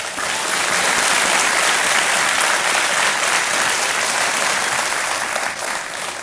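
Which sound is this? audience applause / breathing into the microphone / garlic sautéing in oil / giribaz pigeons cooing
audience applause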